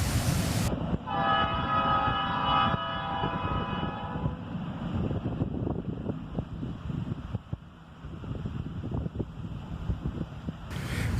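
A Canadian National C40-8 locomotive crosses a bridge, its horn sounding loud and sustained at first, then giving way to the rumbling clatter of the train rolling past, with wind buffeting the microphone.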